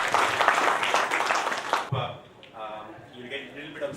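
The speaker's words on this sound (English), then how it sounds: "With a huge round of applause, let's welcome Mr. Bhaskar on" Audience applause welcoming a speaker on stage at a tech talk: a dense, loud burst of clapping that stops abruptly, followed by faint room murmur.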